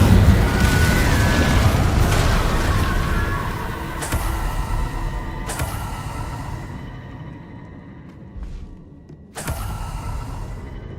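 Spell blasts from the video game Hogwarts Legacy boom out in several loud bursts over a rumbling, busy game soundtrack, each a sharp explosive hit with a decaying tail, spread across the stretch.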